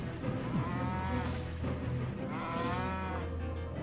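Cattle mooing loudly and continuously, with several drawn-out, overlapping lowing calls close by against a dense herd background.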